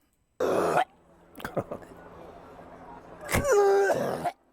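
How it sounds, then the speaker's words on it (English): A man coughs in rough bursts, some harsh and strained, then gives a longer choking, gagging sound with a pitched wheeze near the end. "He walks up coughing, choking."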